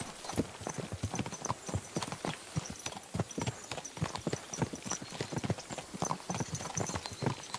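Horse hooves in Kingdom Come Deliverance 2 clop in a fast, even rhythm, close and prominent, with a faint neigh now and then and no talking over them.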